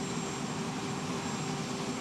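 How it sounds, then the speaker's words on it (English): Air Force One, a jet aircraft, arrives at an airport, its engines a steady, loud, broad roar with a faint whine running through it, continuous and unbroken with no voices. "Now we'll be waiting for Air Force One to pull up"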